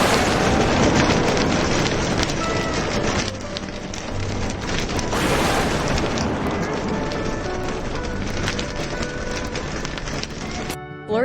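Heavy rain from a thunderstorm at Arches National Park, Utah, drums loudly and steadily on a car roof and windows for the whole stretch, with a sharper burst partway through that may be a thunder crack.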